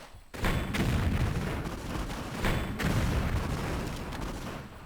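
Repeated gunshots ring out in Tomb Raider III, several heavy booming blasts spaced a second or so apart over a sustained roar of game noise, loud and close.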